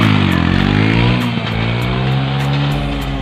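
A motorcycle engine revs hard during wheelie practice, a loud, close, sustained drone whose pitch dips and then holds high, with brief throttle blips, heard alone.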